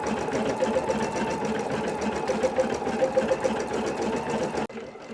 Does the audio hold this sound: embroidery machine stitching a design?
yes